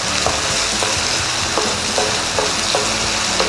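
Onions and spices sauté in hot oil for Chettinad paneer masala, giving a steady, close sizzle broken by regular soft scrapes of stirring. Nobody speaks.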